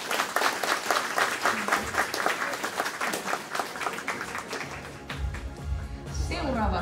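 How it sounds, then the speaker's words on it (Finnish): An audience applauds a contestant at a pony-themed cosplay contest at Poniconi 2023, a strong sustained round of clapping that fades as a host begins talking over a low musical sting near the end. "Vielä suuret aplodit."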